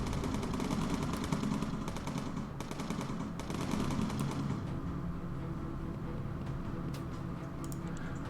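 Gunners firing mounted machine guns aboard a bomber in the game Bomber Crew, steady rapid bursts of gunfire over a constant engine drone, louder in the first half and easing toward the end.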